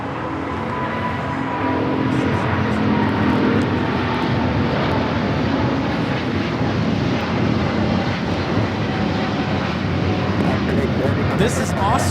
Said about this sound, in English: This is Austrian Airlines Flight 82 taking off to Vienna, Austria on the 777-200ER